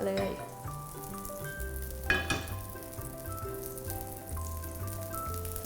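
Bacon-wrapped cheese sausages frying in butter and a little oil in a pan, a constant close sizzle with spatter, occasional stirring clatter and a brief utensil knock.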